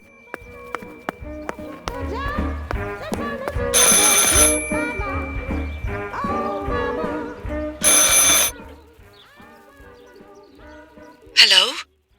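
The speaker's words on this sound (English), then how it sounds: "I should pick up the phone but remain silent." Telephone ringing in a horror story game, a few short loud bursts of bright electronic ringing spaced several seconds apart over music and a narrating voice.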